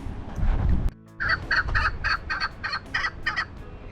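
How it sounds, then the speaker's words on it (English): A partridge calls loudly nearby at the Temple of Poseidon in Greece, a rapid run of about eight harsh, rasping notes following a brief burst of rustling noise. "or it might be a native bird, or it's a partridge anyway. Very loud"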